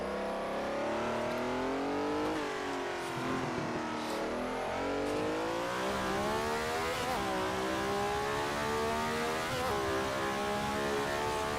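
A historic 1960s Formula One car in Assetto Corsa, racing at Monaco behind a Brabham, with a loud, continuous engine wailing close up, rising through revs and dipping at each gear change.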